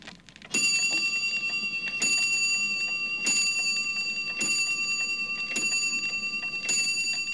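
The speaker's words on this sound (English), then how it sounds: "ping went the shop's doorbell" A shop doorbell in a classic Postman Pat episode, six bright metallic rings repeating at an even, roughly one-second pace, each ringing out clearly with a lingering tone.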